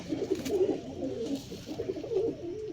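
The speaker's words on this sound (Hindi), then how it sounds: "हाँ टैडी कबूतर दी है" A tumbler pigeon coos steadily and close by in low, rolling, throaty phrases that run continuously through the clip, with no talking.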